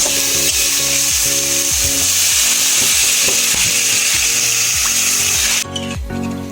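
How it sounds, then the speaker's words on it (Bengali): Water poured into a hot pan of frying spice masala and potatoes for a Bengali fish curry brings on a loud, steady, hissing sizzle with rhythmic bubbling pops, which drops away sharply near the end. "এবার এর মধ্যে আমি জল দিয়ে দেবো।"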